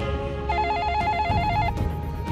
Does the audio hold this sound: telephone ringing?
yes